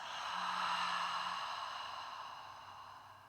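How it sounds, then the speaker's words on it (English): One long, slow exhale during a guided breathing exercise, breathy and close, swelling early and then tapering off gently, with no talking over it. "And breathe out."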